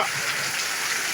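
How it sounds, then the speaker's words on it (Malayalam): Steady rain pours down in a dense, continuous hiss, close by and fairly loud, with no voices. "നല്ല ഉറച്ച ഒരു മഴ തന്നെയാണ് പെയ്യുന്നത്"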